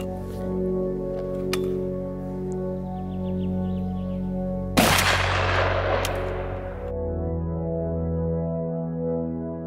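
A single shotgun blast fired with a full choke at a target 30 meters away, a sharp loud burst that rings out and decays over a couple of seconds above a steady low hum, with no talking.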